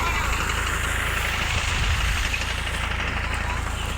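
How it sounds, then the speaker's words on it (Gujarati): A tractor running a potato-digging machine in a farm field gives a loud, steady engine drone that holds evenly throughout with no pauses. "બટાકા પણ મસ્ત કાઢે છે આ ટ્રેક્ટર"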